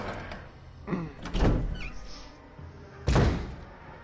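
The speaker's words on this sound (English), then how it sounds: "Let's see what we have through the door." Video game door opening in Resident Evil 1 HD: a pair of heavy thuds and rattles, with a creak in between, a pause, then a second strong thump near the end, loud and close with no talking.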